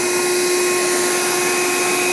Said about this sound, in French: C'est un aspirateur qui fonctionne extrêmement bien.